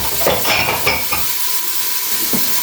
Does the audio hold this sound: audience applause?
no